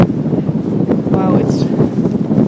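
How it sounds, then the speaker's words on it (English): Strong wind buffeting a camera microphone outdoors beside a tripod, a loud continuous low rumble with gusty thumps and rustle throughout, with faint voices underneath. "wow, it's really windy, Carl."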